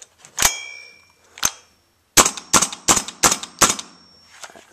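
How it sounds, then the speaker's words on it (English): A KWA LM4 gas blowback airsoft rifle firing close by: two separate sharp cracks, then a quick string of five or six snappy shots with a metallic clack to each. "pull back the charging handle, and shoot."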